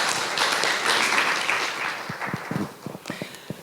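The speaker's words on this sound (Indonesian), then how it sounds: "Kasih aplaus dulu ya." A Pentecostal church congregation (GPDI) applauds during a worship service: a dense, loud wash of clapping that thins into scattered individual claps as it fades.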